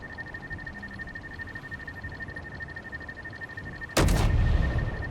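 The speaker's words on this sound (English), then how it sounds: "Hey, my turret's shooting." A turret firing in the video game Space Engineers: one loud, sharp blast near the end that breaks a steady humming background with a constant tone.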